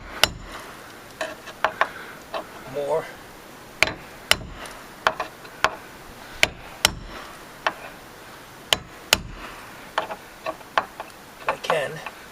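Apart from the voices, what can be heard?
hammer banging nails down on a deck rail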